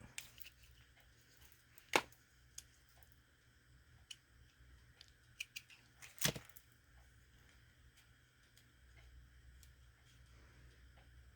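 Scissors trimming a paper stencil, a couple of sharp crisp snips standing out amid faint scattered paper ticks in an otherwise quiet room.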